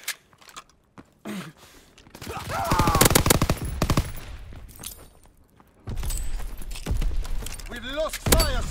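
Machine guns rattle in rapid bursts during a war video game battle, loud clusters of fire broken by short gaps, with radio-style voices speaking between the volleys.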